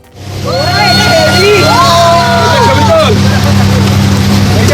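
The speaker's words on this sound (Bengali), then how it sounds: "এবার আমরা স্পিড বোট করে ঘাটের দিকে ফিরবো" A speedboat engine in a mangrove sanctuary at Bichitrapur throbs steadily and loudly after starting up, with a low droning hum under continuous talk and whistle-like tones over it.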